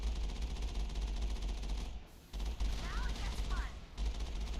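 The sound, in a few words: turrets firing at the player in a video game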